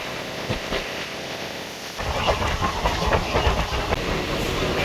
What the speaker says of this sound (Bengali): ট্রেন এখন নৈহাটি জংশন ক্রস করছে।